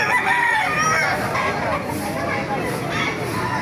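A six-month-old Tiger Henny rooster crows at a busy Philippine market, the call sustained and fairly near under continuous crowd noise and someone speaking.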